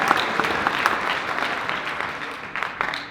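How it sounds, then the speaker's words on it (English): An audience at a school music event in Great Falls, Montana breaks into applause, a dense patter of clapping that holds steady and then starts to thin toward the end. "So would you give them a big round of applause for the job that they do"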